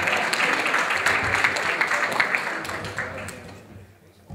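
Audience applauding at a coach operator of the year award presentation, sustained clapping from a crowd indoors that gradually fades out near the end.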